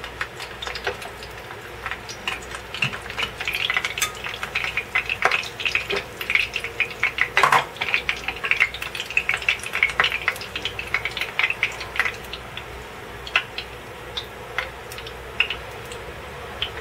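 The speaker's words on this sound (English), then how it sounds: "you can hear the water sizzling as it hits the oil in the pan" Oil sizzles and crackles steadily in a pan as a chicken burrito fries, with sharp pops and spits scattered throughout at close range.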